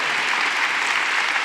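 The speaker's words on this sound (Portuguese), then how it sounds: "podem aplaudir" Party congress audience claps during a closing speech in Porto, a dense, even roar of many hands that fills the whole moment without a break.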